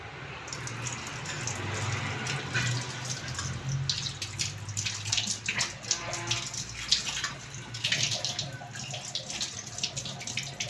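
Steady stream of tap water running in a kitchen while an item is washed clean, with a continuous rushing flow broken by splashes and clinks of handling, close and fairly even, no speech.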